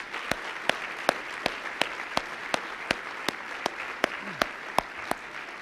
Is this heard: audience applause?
yes